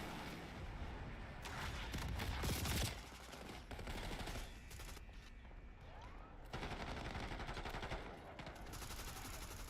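Shotgun gunfire during a team video game match comes as dense, sustained blasts of shooting that fill the scene with heavy noise, broken by short lulls.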